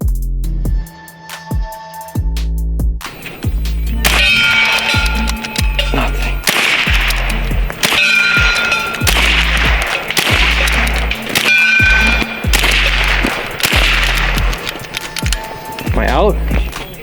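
A compact 9mm pellet-gun carbine fired at steel gongs on an outdoor range: a series of sharp shots, each followed by a ringing metallic clang, spaced out over time, with someone talking between them.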